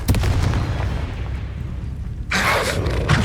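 Confringo fire spell going off in the game Hogwarts Legacy, a deep rumbling boom followed by a sharper crackling blast, loud and close.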